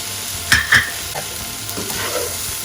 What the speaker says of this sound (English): I'll slowly add in the rice. So I'll split the rice in half and just fry that in 2 batches.